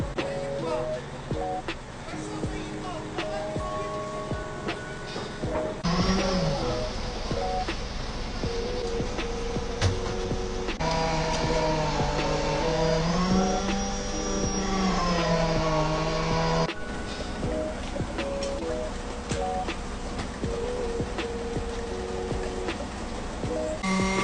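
Concrete is tamped in the last column of a hemp house build with a machine that gives a steady droning hum whose pitch rises and shifts partway through. It sounds close and continuous for the whole stretch.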